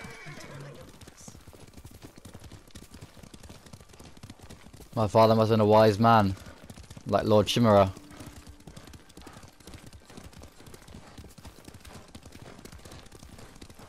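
A horse in the video game Ghost of Tsushima gives two loud whinnies midway, with soft hoof and riding sounds underneath and people talking around them.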